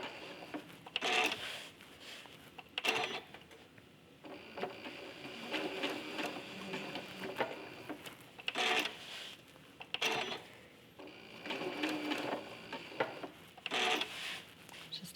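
A sewing machine stitches raw edge applique on a quilt in several quick runs separated by short pauses, each burst a fast, even mechanical whirr with needle clatter.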